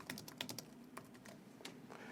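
Quick, light keystrokes on a computer keyboard during a remote desktop session, a faint, close, irregular patter of about a dozen clicks in a quiet room.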